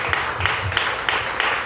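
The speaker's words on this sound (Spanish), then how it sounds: "Denle un aplauso al Señor." A church congregation claps together in a steady rhythm during a Spanish-language service, about three bursts per second, moderately loud and continuous.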